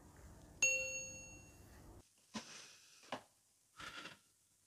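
A single bright bell ding rings out and decays slowly, followed by a few soft, brief rustling noises.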